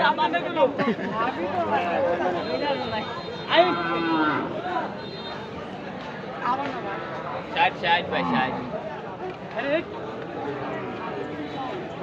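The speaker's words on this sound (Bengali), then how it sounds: "এই সাইডে একটা শাহিওয়াল জাতের সার বাছুর আছে" A Sahiwal bull calf moos repeatedly amid a busy cattle market in Madhabpur, Habiganj, with people chattering and calling nearby throughout.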